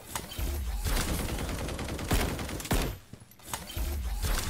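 UMP submachine gun fire in a Valorant-style mobile shooter game, sustained rapid bursts of loud automatic shots with a brief pause near the end before firing resumes.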